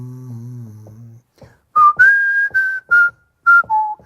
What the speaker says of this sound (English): That's difficult with whistling.